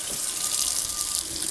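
Warm water runs steadily from a tap in an off-grid treehouse rental, a continuous close hiss with no voices over it.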